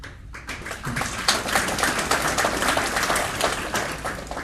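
An audience applauding at a city's state-of-the-city address, a sustained wash of many hands clapping that swells after a brief quiet start and holds steady, moderately loud, with no speech.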